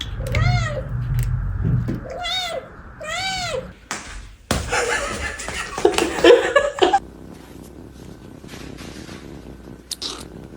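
A pet cat meows several times in quick loud bursts near the start, followed by a scuffle and a rough, strained yowl, with quiet background in between.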